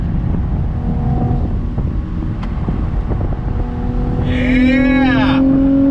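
2021 Chevrolet Camaro RS convertible engine revving through smooth downshifts, with a rising and falling engine note near the end over steady road and wind rumble.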